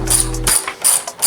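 Screws being snugged into the plastic air filter housing of a Honda CB500X, heard as a close, loud burst of ratcheting clicks followed by short metallic turning sounds.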